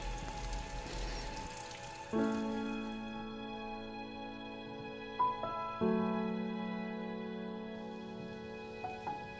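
Steady rain falls with scattered louder drips and splashes, fairly close and continuous throughout.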